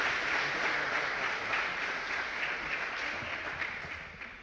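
A church congregation applauds steadily for several seconds, a dense, even wash of clapping from many hands that slowly tapers near the end.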